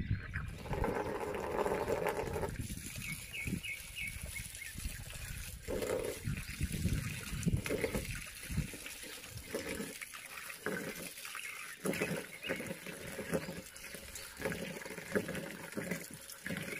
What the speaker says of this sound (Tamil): இதில் தண்ணி ஊற்றி வைக்கணும். வாங்க தண்ணி ஊற்றி வைக்கலாம்.